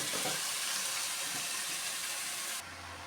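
Steady sizzling of boiled cabbage tipped into a pan of frying spices and prawns, a continuous bright hiss that drops to a quieter, lower sizzle near the end, with no talking.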